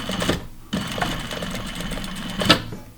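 A sewing machine stitches a quarter-inch seam on a skirt, running in close, steady bursts with a short pause and a quick back tack, with no talking over it.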